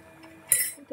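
A metal spoon clinks sharply against a glass or jar once while honey is added to a drink, a brief bright strike standing out over a quiet kitchen with faint background noise.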